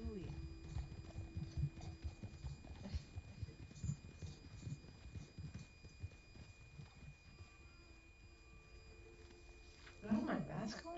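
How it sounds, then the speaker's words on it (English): Horses clip-clop in a steady, moderately close rhythm of hoofbeats, with a brief whinny-like sound near the end and soft voices talking in the background. "Oh, the horses."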